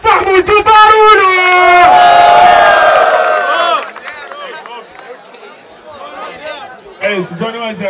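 Loud crowd cheering and shouting at a Brazilian freestyle rap battle semifinal, bursting out strongly for several seconds, then fading into chatter as a voice talks over the remaining hubbub.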